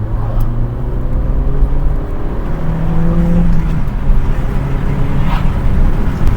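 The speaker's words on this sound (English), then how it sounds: "Listen to the 4-cylinder" Four-cylinder engine of a 2015 Toyota Yaris running and revving, a loud, steady, close-up drone with rising and falling tones and no talking.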